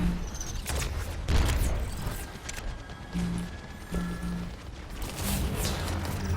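Rapid gunfire bursts in an Overwatch match, dense and continuous with sharp cracks and low booms layered over game effects, fairly loud throughout with no pause.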